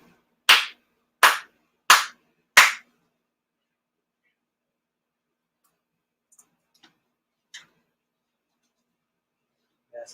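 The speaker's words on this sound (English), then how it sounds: "4 sincere claps." Four sincere ritual hand claps at a Shinto-style prayer gathering, sharp and evenly spaced about two-thirds of a second apart in a quiet room, followed by near silence with a few faint small knocks.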